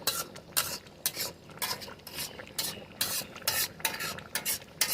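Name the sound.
chicken being sautéed and stirred in a pan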